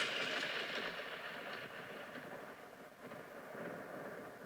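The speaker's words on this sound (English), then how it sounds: "This sounds like thunder to me" Synthesized thunder effect built from noise: a steady, broad rumbling wash that fills the whole stretch, slowly swelling and easing with no distinct cracks and no voices.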